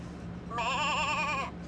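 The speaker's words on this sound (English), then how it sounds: "Lamb." Short electronic lamb bleat played by a button on a sound toy, one quavering cry near and clear over a faint background hum, with no voices during it.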